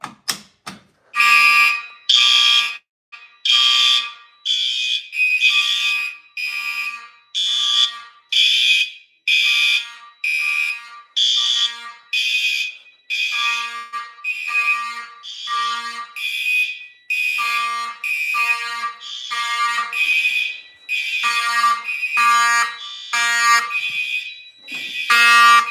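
A loud fire alarm blares in repeated harsh electronic pulses with brief gaps between them, continuing steadily for a long stretch up close.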